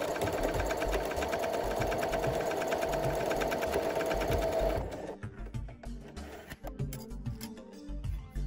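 Sewing machine stitching a straight seam along a fabric edge with the presser foot down, a steady close whirring run for about five seconds before it stops, leaving quieter handling noises.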